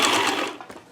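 An old Montgomery Ward sewing machine whirs briefly at close range, a short buzzing run that quickly fades out.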